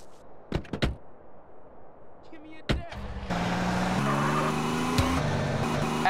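Car in GTA San Andreas: a couple of door thunks and knocks, then the engine starts and revs into a steady, rising drive with gear-shift pitch changes, under brief talk.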